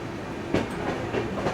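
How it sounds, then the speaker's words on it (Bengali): The 18047 Amravati Express rolls along a coastal line beside the sea, its steady rumble and soft rhythmic clickety-clack of wheels on rail joints heard from inside a carriage. "একদম আমাদের ট্রেন যাচ্ছে সমুদ্রের ধার ঘেঁষে"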